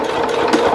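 A sewing machine runs steadily while stitching a rag quilt seam, a continuous close mechanical whir with a light rattle throughout the brief moment.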